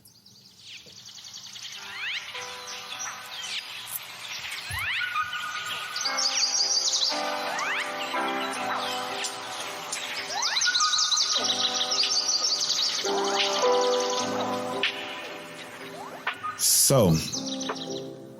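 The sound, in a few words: birds chirping sound effect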